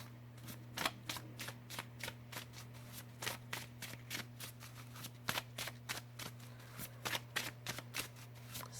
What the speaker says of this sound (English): I tend to shuffle my cards a lot